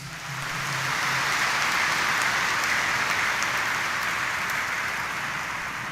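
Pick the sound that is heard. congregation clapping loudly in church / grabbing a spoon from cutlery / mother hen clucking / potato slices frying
congregation clapping loudly in church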